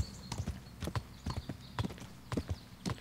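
Horse hooves clip-clop steadily in the medieval video game Kingdom Come: Deliverance, a clear, close, evenly paced trot of about two hoof beats per half second with no talking.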